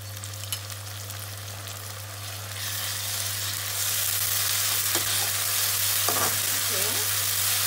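Ginger garlic paste frying in hot oil with curry leaves for mutton liver masala, a steady broadband sizzle that swells louder midway, with occasional stirring scrapes and no voices.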